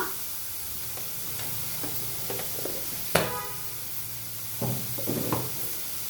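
Snack stuffing fries in hot oil in a pan, a steady close sizzle with a sharp clink partway through and a few soft stirring scrapes near the end.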